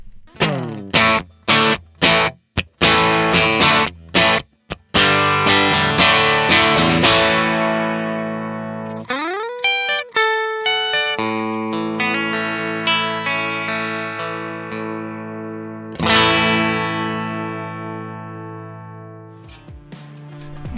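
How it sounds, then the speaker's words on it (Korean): Electric guitar played through a JAM Pedals Boomster buffer and booster pedal, opening with sharp strummed chords and then letting ringing single notes and chords sustain, clean and close with no talking. "붐스터는 버퍼 앤 부스터 페달이고 여러 기능적인 이점이 있는 유닛이랄까요"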